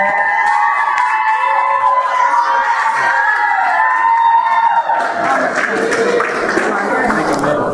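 Wedding guests cheer and applaud for the maid of honor: a noisy crowd swell with whoops and shouts, building louder toward the end, while voices talk over it at first.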